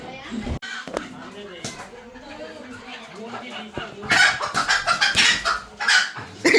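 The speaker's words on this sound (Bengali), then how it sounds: "ছুটে গেছে এক মুরগি।" A chicken that has just escaped clucks and squawks close by, growing louder and more agitated toward the end, while people talk over it.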